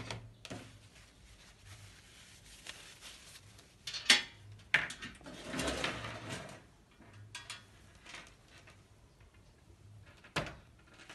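A baking pan handled for butter cookies, with scattered faint metallic clanks, knocks and scrapes in a quiet kitchen, a few sharper bangs standing out.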